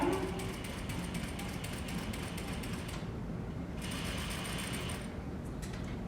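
A sewing machine stitches fabric around a curve, running in a fast, steady mechanical whir that stops briefly and then starts again, loud and close, with no talking.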